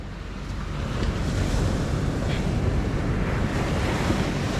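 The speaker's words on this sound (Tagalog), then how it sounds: "Dagat. Ang lalaki pa rin na alon." Big sea waves rolling against the shore, a continuous loud roar of surf mixed with gusting wind buffeting the microphone, with no voices over it.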